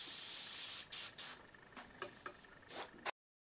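Airbrush spraying a mixed basalt and gunmetal paint onto scale-model barrels: a steady close hiss in short bursts of varying length, broken by brief pauses, with faint ticks from the gun.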